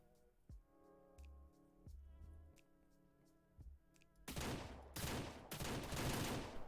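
Gunshots in Ranch Simulator, a few sharp separate reports over quiet music, then a louder burst of rapid, close fire near the end.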